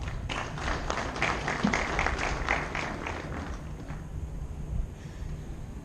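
Audience clapping at a university graduation ceremony, a burst of scattered hand claps that thins out and fades to quiet room tone by the end.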